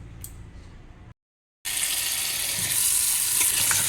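Mutton trotters are rinsed under running water: a brief hiss of pouring, a short silence, then a louder steady gush of tap water splashing over them.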